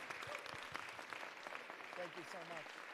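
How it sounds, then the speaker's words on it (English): An audience applauds police officers at a ceremony, a continuous wash of clapping kept at a low, distant level, with voices speaking over it. "One big final round of applause for our amazing PEP officers."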